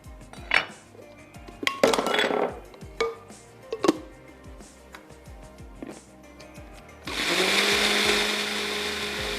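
A kitchen grinder whirs steadily, blending onion and sliced ingredients into a paste for a dahi champ marinade, after several sharp clinks and clatters of jars, lids and utensils being handled.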